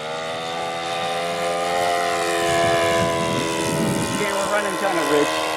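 A Goldberg Super Chipmunk model airplane's engine runs at full throttle, a sustained buzzing drone that rises slightly in pitch and stays steady and fairly close, with people talking over it.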